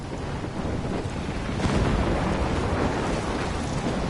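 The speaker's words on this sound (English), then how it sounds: "I'm trapped in a storm?" A thunderstorm rumbles and roars steadily in the Life is Strange video game, a dense, loud wash of wind and rain-like noise with a swelling rumble partway through, no voices.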